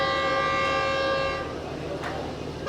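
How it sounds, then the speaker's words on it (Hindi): A train led by a GU40 locomotive arrives at Landhi Junction in Karachi, sounding a long, loud horn that fades into the rumble of the approaching train. "बस वो आ गई है ट्रेन सामने से"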